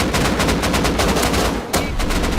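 Rapid automatic gunfire in the online survival game Rust rattles off in a loud, tightly spaced burst, a brief gap breaking the volley before it resumes.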